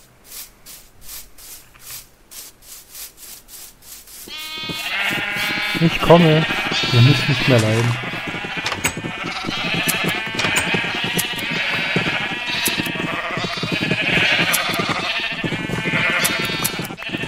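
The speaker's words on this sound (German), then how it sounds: "Schafe" Sheep in the video game Minecraft bleating, several short bleats at moderate level, mostly heard under a man chatting continuously in German.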